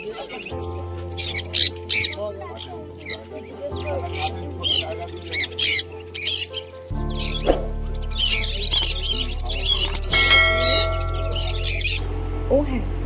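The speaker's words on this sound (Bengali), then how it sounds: "প্রথমেই ভিডিও শুরুতে নিয়ে এলাম আপনাদের পাখিদের কাছে" Caged exotic birds at the Serampore Sunday pet market squawk and chirp in quick repeated bursts close by, over a steady low hum, with people talking in the background.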